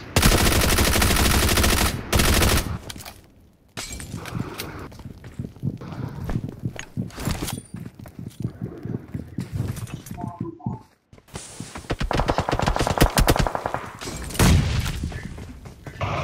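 In the mobile battle royale BGMI, a Bizon submachine gun fires in rapid automatic bursts. Loud stretches of gunfire alternate with quieter gaps filled by footsteps and in-game sounds.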